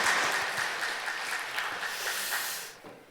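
A church congregation at a Sunday worship service claps together in a dense, loud burst of applause that carries steadily for about three seconds before tapering off.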